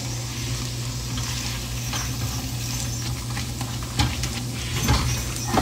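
Fried rice with scrambled egg and onion being stirred in a pan, a continuous close sizzle with a few spatula scrapes and clinks near the end and no talking.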